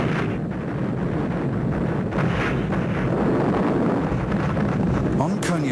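A continuous rumble of distant artillery fire during the opening barrage of the Battle of Berlin rolls along with wind-like noise, dense and steady throughout.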